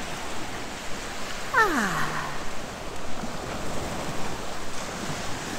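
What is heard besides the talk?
water lapping against the edge of the beach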